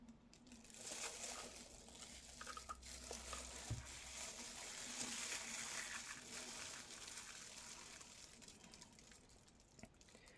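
Resin poured into a detailed mold, heard as a faint, quiet trickling and splattering of liquid over about ten seconds, with a soft low thump partway through.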